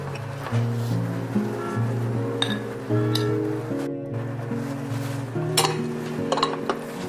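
Bean sprout rice is mixed and spooned into a bowl, with scattered clinks and scrapes of a utensil against dishware over steady background music.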